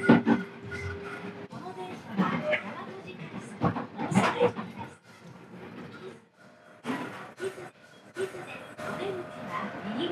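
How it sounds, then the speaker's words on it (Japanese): A rapid train on the Kansai Main Line pulls out toward Namba, with rumbling and clattering wheel noise, occasional door and carriage knocks, and onboard background sounds over about ten seconds. "午後5時33分、難波駅方面に向かって快速列車出発です。"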